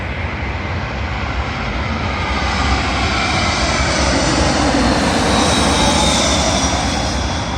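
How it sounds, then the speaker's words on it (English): A British Airways Airbus A319 arriving from Frankfurt roars past at London Heathrow runway 27L, a loud, steady broadband jet rumble that swells slightly and holds close throughout, with no one speaking. "Arriving in now, the British Airways A319 from Frankfurt to London Heathrow"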